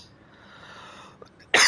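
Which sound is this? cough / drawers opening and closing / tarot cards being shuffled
cough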